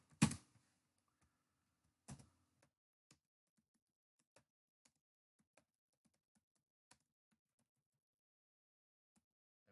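Sparse, faint keyboard taps during a live coding session in a quiet room, a couple of louder clacks at the start followed by isolated light clicks spaced out over several seconds, with no talking.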